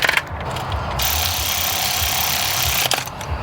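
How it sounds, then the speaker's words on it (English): Small ratchet wrench turned continuously in a rapid, close, loud clicking run lasting a few seconds, with no one talking over it. "This little ratchet is a monster."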